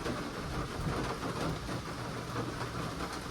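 Rain falls steadily outside a U-Haul CT-13 camper under restoration, a constant even hiss with a low rumbling undertone and no voices.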